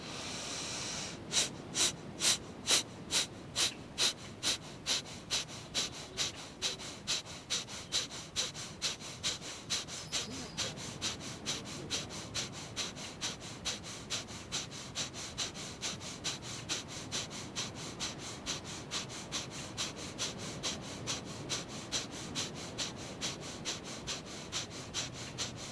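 Yoga breath of fire: a long run of rapid, evenly spaced, forceful nasal exhalations, close and loud, repeating about twice per second for the whole stretch.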